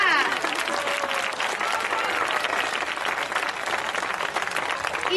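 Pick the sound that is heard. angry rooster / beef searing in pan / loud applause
loud applause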